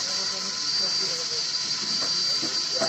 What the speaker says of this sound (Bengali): পেঁয়াজ ভাজা হচ্ছে, পেঁয়াজ ভাজাটা